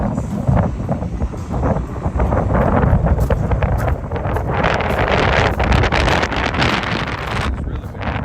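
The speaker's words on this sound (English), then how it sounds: "It's really windy." Strong wind buffets the microphone outdoors in Lexington's distillery district, making a loud, steady roar with rumbling gusts across the whole stretch.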